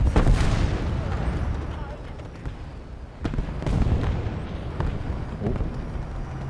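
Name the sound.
rockets exploding in a video game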